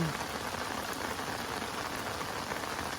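Steady rain falls on a riverbank during a fishing outing, a dense and continuous patter that fills the whole stretch at an even level with no voices.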